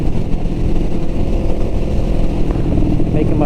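A Honda Rebel 500 motorcycle engine-brakes on the interstate, a loud continuous engine drone mixed with wind roar that holds steady throughout, with a rider talking over it.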